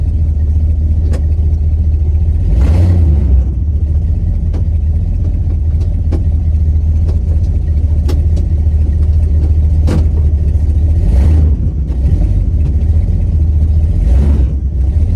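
A Dodge Coronet's engine runs loud and close with a constant low rumble while the car is driven slowly around a yard, rising in a few brief revs along the way.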